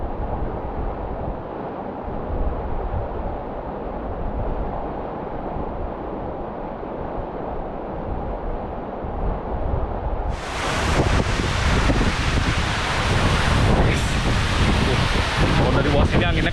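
Strong wind and rushing water at Gitgit waterfall in Bali, a dense roaring wash that turns much louder and brighter partway through as gusts batter the microphone, with no talk over it.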